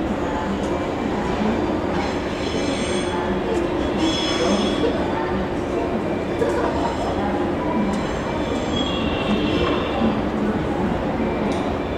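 A four-car electric train rumbles into a Japanese station with a steady low roar, faint rattling and squeals, while indistinct voices and announcements carry over it.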